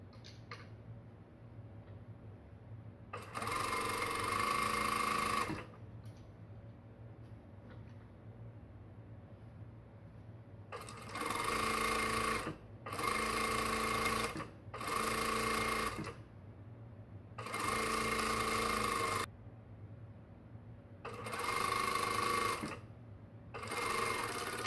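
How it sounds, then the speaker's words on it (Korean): A sewing machine stitches the back centre seam of a voluminous blouse in several loud bursts of steady whirring, separated by short quiet pauses, with no talking. "자, 먼저 뒷중심 트임 여기서부터 쭉 박아 줄게요."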